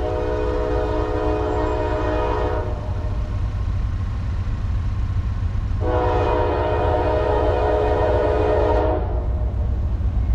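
Two long, loud blasts of a Norfolk Southern train horn in South Plainfield, New Jersey, over a steady rumbling engine, the second blast starting after a short pause.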